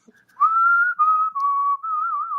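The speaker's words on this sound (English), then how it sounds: "Is that you whistling? It is me whistling." A person whistles a sustained melodic tune, bright and clear, holding long steady notes with slight wavering, close and alone without talk.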